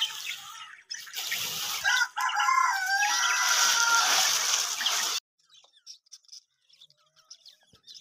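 Pet birds chirp and call inside a covered aviary during the first winter rain, with a dense, bright flurry of calls for about five seconds, then only scattered faint chirps.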